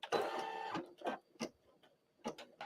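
An embroidery machine stitches the outline of a design for a bib, making quiet bursts of rapid mechanical stitching followed by short, separate stitch clicks.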